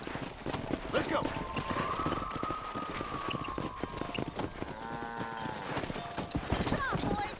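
Horse hooves clip-clop at a steady running pace while riding and herding cattle in Red Dead Redemption, continuous and fairly close, with voices calling and talking over the galloping.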